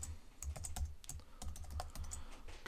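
Keys clatter on a computer keyboard as text is typed, quick uneven bursts of clicks heard close and fairly quiet with no talking.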